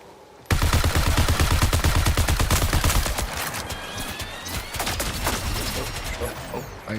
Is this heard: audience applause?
no